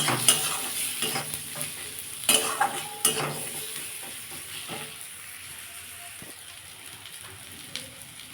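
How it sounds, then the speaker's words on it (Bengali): Turmeric powder and cumin seeds frying in hot oil for a Bengali red lentil tadka, a close steady sizzle with a few sharp stirring scrapes and pops early on, fading to a softer bubbling hiss alone. "হাফ চামচ হলুদ গুঁড়ো এটাকে ভালো করে কষাবো নাহলে জিরে গন্ধ ছাড়বে"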